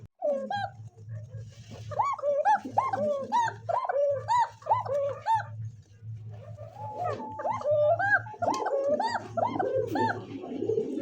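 Pigeons of a pigeon loft, of fancy breeds such as Lahori and Bombay, coo and call in a continuous overlapping chorus, with a thin, high, repeated call standing out among deeper coos. A steady low hum runs underneath.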